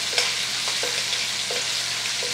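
Spanish chorizo frying in oil in a pan for paella, a close, steady, hissing sizzle with soft stirring taps throughout, loud and even with no talk.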